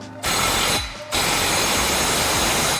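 Ratchet clicking as exhaust bolts are tightened on a Subaru WRX STI cat-back exhaust, with a short burst of rapid clicks, a brief pause, then a longer run of close, steady ratcheting.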